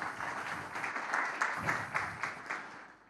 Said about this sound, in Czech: A můžete zatleskat určitě.